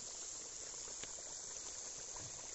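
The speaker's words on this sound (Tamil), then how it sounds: "கொதி வந்துருச்சு, மீன் போட்டுக்கலாம்." Water boiling in a pot over an outdoor wood fire for a village fish curry gives a steady, faint hiss and bubbling, with insect chirring in the background and no talk.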